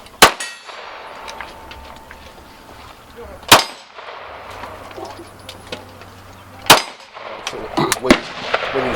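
Gunshots at an outdoor shooting range: three sharp, loud reports spaced a few seconds apart, with fainter distant shots and clanks between them.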